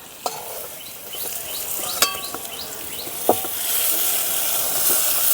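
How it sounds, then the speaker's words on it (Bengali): Potato and pointed gourd pieces fry in a pan with steady close sizzling, broken by a few sharp clinks and scrapes of a utensil stirring against the pan. "আলু আর পটলটা ভাজা হয়ে গেছে এখন তুলে নেব"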